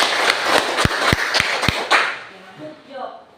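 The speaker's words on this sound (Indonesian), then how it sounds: "Tepuk tangan dulu" A class claps together, a burst of sharp hand claps with a few loud strikes standing out, then fading into murmuring voices and chatter.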